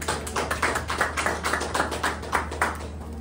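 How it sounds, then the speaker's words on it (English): An audience at a medical center and internet partnership inauguration gives a short round of applause, a steady patter of claps at moderate distance over a low hum, without voices. "a big round of applause for Captain Duana"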